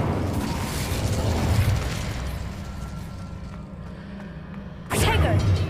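Incendio fire spell cast in the Hogwarts Legacy video game, a rumbling fiery burst that swells early, fades, then erupts again in a sharp loud blast near the end over a steady game soundscape.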